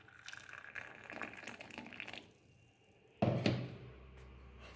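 Hot water is poured from a kettle into a glass with a spoon standing in it, a soft trickle followed by a sudden louder gush of liquid filling the glass, heard close and quiet.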